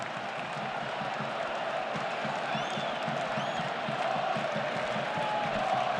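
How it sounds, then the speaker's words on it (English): Stadium crowd at a Barcelona versus Real Madrid Copa del Rey final football match, a broad distant murmur with a soft ripple of applause rising and falling under the background roar. "a ripple of applause each time that Pedri ticks along another pass"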